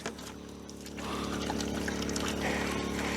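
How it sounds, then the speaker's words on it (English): Water pours steadily into buckets at an off-grid tiny house, a close rushing trickle that grows louder and fuller after the first second and keeps flowing without a break. "I'm gonna fill the buckets here"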